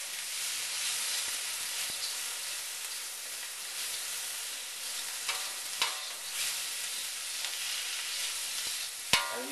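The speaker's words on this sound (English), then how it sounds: "you stir fry this mixture around for a minute or 2 until the vegetables turn a little bit soft" Beef fried rice with vegetables and oyster sauce being stir-fried in a pan: a steady, quiet sizzling hiss throughout, broken by occasional scrapes and clacks of the utensil, with no voices.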